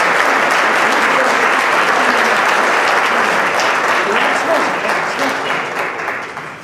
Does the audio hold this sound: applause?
yes